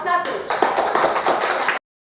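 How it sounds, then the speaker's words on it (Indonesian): Classroom of children clapping for a student group during a lesson on insect metamorphosis, a short dense burst of close hand claps lasting under two seconds before stopping abruptly. "tepuk tangan sekali lagi untuk kelompok"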